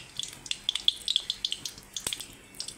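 Oil poured into a kadai (wok) set on the stove for frying small-fish pakoras, giving a quick series of light glugging, splashing ticks and bright drips, close and fairly quiet.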